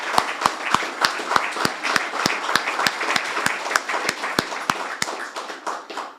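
Audience applause at a ribbon cutting for The Village at McArdle in Corpus Christi: a steady patter of many hands clapping with sharp individual claps standing out, fairly close and sustained, tapering slightly near the end.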